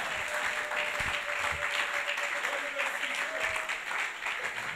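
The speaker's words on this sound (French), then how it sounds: "Que quelqu'un acclame la parole du Seigneur." A church congregation applauds during a Sunday service, with continuous, dense clapping from many hands filling the room and a faint sustained voice or tone underneath.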